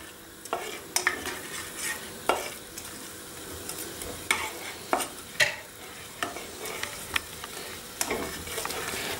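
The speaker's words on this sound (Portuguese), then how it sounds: "Vamos deixar no lume até que amacie a nossa cebolinha e o nosso alho." Onion and garlic softening in a pan for chicken curry with apple, stirred with a utensil that knocks and scrapes the pan in irregular strokes over a soft, steady sizzle.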